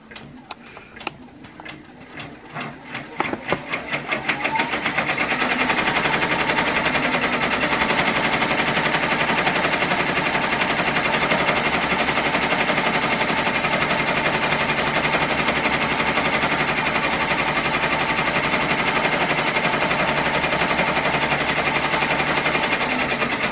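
An embroidery machine stitches a teddy and bunny appliqué, starting with a few clicks before settling into a loud, steady, rapid needle chatter that runs alone and unbroken to the end.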